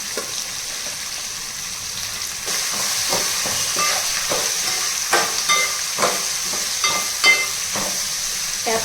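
Chopped capsicum and green chillies fry in a hot pan with a steady sizzle, while a spatula scrapes and stirs in repeated sharp strokes near and loud, with no talking.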